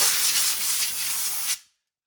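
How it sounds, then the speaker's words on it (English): Compressed air blasts loudly and steadily into the brake area of a Polaris Ranger 150 utility vehicle, blowing out debris in one close, continuous hiss for about a second and a half before cutting off abruptly. "What I like to do next is just get some compressed air and just kind of blow all the junk out of here."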